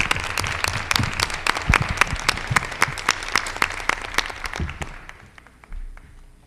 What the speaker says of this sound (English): So you guys all deserve a huge round of applause.